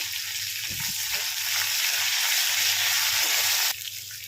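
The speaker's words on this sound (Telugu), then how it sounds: "ఈ కరివేపాకు అనేది మంచిగా క్రిస్పీగా అయ్యేదాకా వేయించండి" Curry leaves, about four sprigs, crackle and fry in oil over low to medium flame, a steady close sizzle with faint popping, the hiss dropping slightly near the end.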